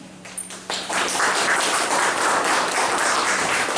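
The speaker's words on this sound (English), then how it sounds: "I would like to welcome our resource person, Mrs. K. Preeti Singh ma'am, with a huge round of applause." Audience applause in a school hall welcomes a resource person to the stage, a dense, steady wash of many hands clapping that swells after a quieter start and holds loud and continuous.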